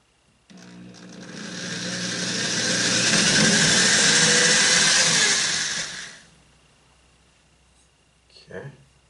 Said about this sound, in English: Next, we're going to drill the holes